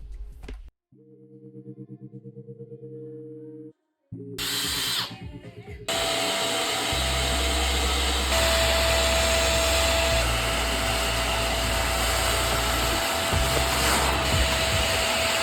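Wet vac running loud and steady with a brush tool scrubbing the carpet of a Porsche 944, after a short buzzing start and a brief stop.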